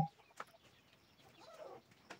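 Free-range backyard chickens let out of a coop on a small farm, giving a few soft scattered clucks and rustles at close range, with no talking.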